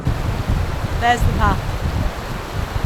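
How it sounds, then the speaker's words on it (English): River water rushes steadily while a hiker crosses it, a broad continuous wash mixed with wind buffeting the microphone. Someone speaks briefly over the noise. "So I'm just crossing the river now."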